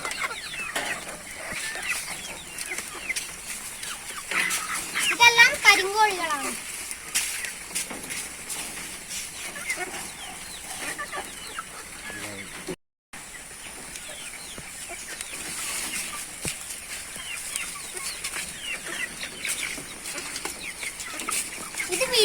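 Sidely and Gramasree chickens cluck and squawk steadily throughout, with a brief burst of louder flock noise partway through and a short dropout near the middle.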